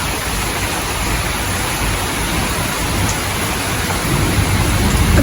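Heavy rain pours down steadily and close by, a dense continuous hiss that builds slightly toward the end, with no voices.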